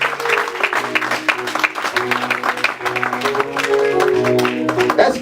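Church audience at a gala dinner applauding to acclaim the Lord, steady dense clapping throughout with sustained musical tones underneath, loud and near.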